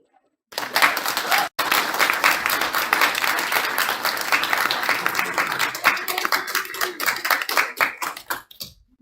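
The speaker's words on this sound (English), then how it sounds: "Can we give her another round of applause?" An audience at a spring speakers forum breaks into loud, sustained applause, dense clapping that starts abruptly, dips once briefly and then carries on close and strong to the end.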